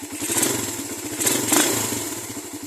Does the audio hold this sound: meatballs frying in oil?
no